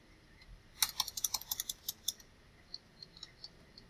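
A quick run of close, crisp computer keyboard keystrokes types a file name, then a few sparser taps trail off in a quiet room.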